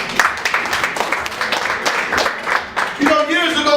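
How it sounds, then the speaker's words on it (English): An audience at a Jackie Robinson Fortitude Award ceremony applauds in a dense burst of clapping, with a voice starting to speak over it near the end. "So please take a moment and clap yourselves up."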